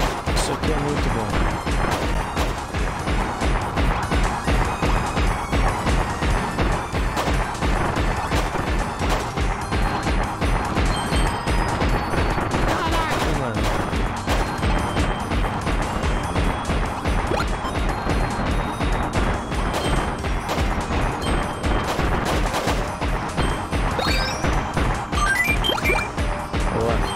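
Cannon firing in Kirby's Return to Dream Land Deluxe, a relentless loud barrage of rapid booming and crashing hits repeating steadily throughout, layered over game music.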